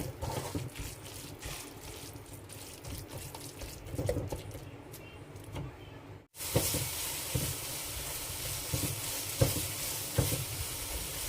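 Spice powders for a fried chicken biryani masala sizzle steadily in a hot pan while being stirred, with scraping strokes and a louder, brighter frying hiss after a short break.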